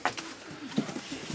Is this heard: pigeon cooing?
yes